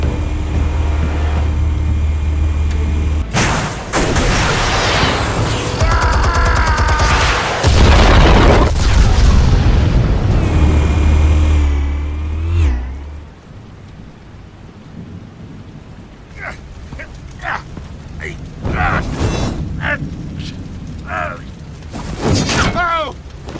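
Explosives detonate in Batman: The Telltale Series with heavy booming blasts and a crackling, rain-like debris roar for about twelve seconds, followed by quieter clatter and scattered impacts, with voices speaking over parts of it.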